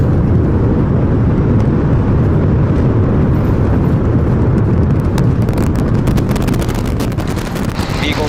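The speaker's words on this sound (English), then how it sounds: "We have liftoff. Go Super Heavy. Go Starship." SpaceX Starship Super Heavy rocket at liftoff on its 11th flight test, a continuous, loud, dense rumbling roar with heavy low-end crackle that stays steady throughout.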